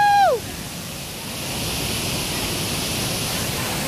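Steady broadband roar of Boti Falls, a twin waterfall in Ghana, heard close and continuous, with a brief voice-like tone at the start.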